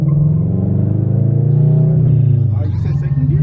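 A Subaru BRZ engine rumbles low and steady while driving in second gear as the revs climb. Voices talk over the drone inside the car.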